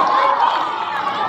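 Audience applause at a children's storytelling event in Sukabumi: a dense, steady wash of clapping and crowd noise that stays loud and close for its whole short length.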